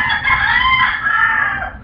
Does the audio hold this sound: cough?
no